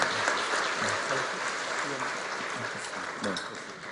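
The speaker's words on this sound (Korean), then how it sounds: "다시 한번 인사할 때 축복의 박수 부탁드립니다." A church audience gives dense, continuous applause at a children's award presentation, with voices mixed into the clapping.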